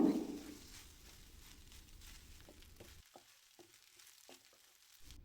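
Cooked rice stirred into a curry leaf mixture in a pan, a faint, steady sizzle with soft scraping and spoon taps toward the end, no voices.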